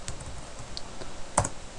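Keys clatter on a computer keyboard in quick, light, uneven taps close by, with one firmer keystroke near the end.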